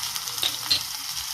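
An onion, green chilli and red chilli tempering for dal fries in a pan, making a continuous close hiss with a couple of brief crackling pops.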